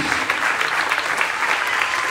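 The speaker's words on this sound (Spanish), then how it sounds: "Un aplauso para Jesús." Congregation applauding during an evangelical church service, a steady dense wash of many hands clapping, loud and continuous with no pauses.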